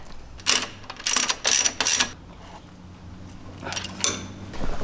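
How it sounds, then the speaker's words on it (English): An 18mm socket and wrench ratchet in several quick clicking bursts while a shock is secured to a Jeep JL Wrangler's lower axle mount, close and crisp, with brief pauses between bursts. "Using an 18mm socket and wrench, we can go ahead and secure the shock to the lower axle mount."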